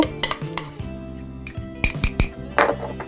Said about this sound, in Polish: I wszystko znowu ze sobą mieszam